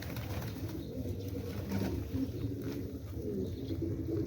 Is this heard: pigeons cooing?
yes